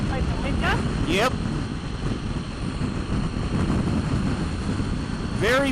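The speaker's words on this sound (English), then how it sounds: "Very windy down here today." Strong wind buffets a microphone during a highway road trip, making a steady, loud, rumbling roar that runs through the whole stretch, with a few brief chirping sounds on top.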